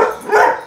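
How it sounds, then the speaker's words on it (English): A dog lets out a short bark or yelp at close range, a single brief loud burst. "No, don't bark."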